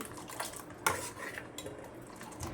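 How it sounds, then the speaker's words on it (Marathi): A spoon stirs fasting-style kadhi in a metal pot, with repeated close scraping and clinks against the sides and a couple of sharper knocks, all quiet and without talk. "छान हलवून घ्यायचं आहे आपली कढी मस्त झालेली"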